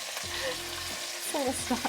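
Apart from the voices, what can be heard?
beef searing in a hot pan, being flipped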